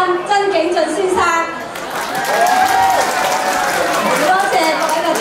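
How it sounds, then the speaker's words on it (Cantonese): Applause rises from the audience at a New York clan association's seventh-anniversary and officer inauguration gala dinner, a steady wash of clapping that fills the hall for several seconds with voices mixed in. "多謝各位嘅掌聲"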